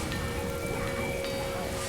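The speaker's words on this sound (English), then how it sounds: "It's pouring with rain." Heavy rain pouring steadily at a Bali-style wedding venue, a dense, even hiss with faint patters throughout, loud and close with no voices.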